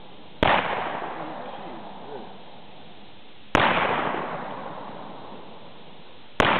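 Three sharp, loud gunshots from heavy loads during speed shooting, each a sudden blast with a long decaying echo, spaced about three seconds apart.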